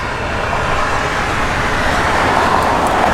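Engine of a 1965 Plymouth Sport Fury with a 727 TorqueFlite automatic transmission runs steadily up close, a continuous broadband rumble that fills the clip with no talk over it.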